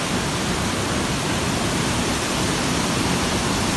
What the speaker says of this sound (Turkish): Gümbür gümbür sular akıyor.